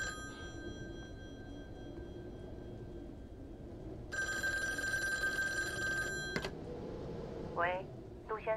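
A telephone rings in the horror video game Devotion, with a bright electronic trill sounding loudly for a couple of seconds over a low ambient hum, then cutting off before faint squeaky tones follow.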